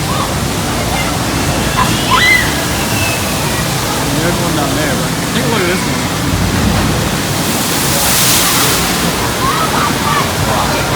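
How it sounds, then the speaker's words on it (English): Heavy rushing water from a log flume ride at a New Jersey amusement park, a loud continuous broadband splash and churn with a brief surge near the end, while someone talks faintly over it. "when the log comes by, see how much the splash makes."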